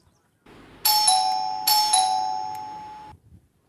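An electronic doorbell rings close and loud, two bright chime tones each ringing out and decaying in sequence, with a faint click before and a little room noise after.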